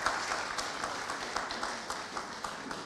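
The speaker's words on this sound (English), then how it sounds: "give a round of applause for how awesome this place is." Conference audience at the MedTech Malta 2024 event applauds steadily, a dense wash of many hands clapping at moderate volume for about three seconds with no talk over it.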